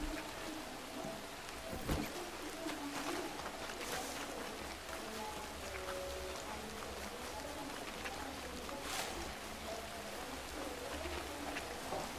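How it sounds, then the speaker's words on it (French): Steady rain falls in the video game Red Dead Redemption 2, a continuous soft hiss of drops with occasional louder splashes, faint and constant throughout. "Il pleut."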